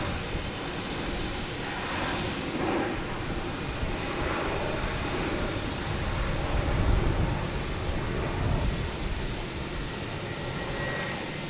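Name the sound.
Alaska Airlines airliner coming in to land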